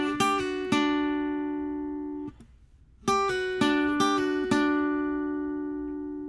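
Guitar playing a picked lick with pull-offs from a song: clean ringing notes plucked in quick pairs, a brief gap, then the phrase repeats, close and alone.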